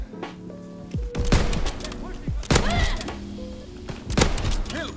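Sniper rifle shots in Call of Duty WW2, several sharp gunshot cracks with rolling echoes spaced a second or so apart, amid other in-game gunfire and someone talking excitedly over the action.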